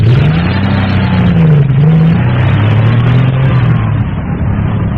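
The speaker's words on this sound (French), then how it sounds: "Et la voiture des deux assassins s'éloigne." A car drives off steadily, its mid-pitched engine rumbling loud and close before easing slightly as it pulls away, with no voices over it.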